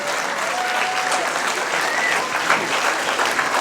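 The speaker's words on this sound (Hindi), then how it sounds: "इधर थोड़ी तालियों से रंग भर दीजिए" A school audience breaks into applause during a grand welcome, a dense, lively burst of clapping that holds steady throughout, with a few faint voices mixed in.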